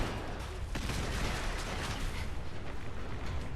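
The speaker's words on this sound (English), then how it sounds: "He's throwing grenades" Grenade blasts in Fallout 4 during a firefight, a dense, loud, continuous roar of explosive bursts and crackling gunfire with one sharp crack near the start and no pauses.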